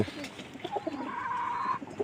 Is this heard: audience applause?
no